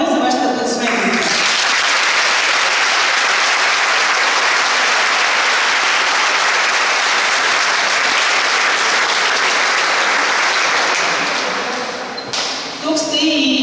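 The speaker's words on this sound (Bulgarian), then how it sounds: "Моля за вашите аплодисменти." Sustained audience applause fills an indoor hall at a children's sports academy event, with steady clapping for about eleven seconds before it tapers off.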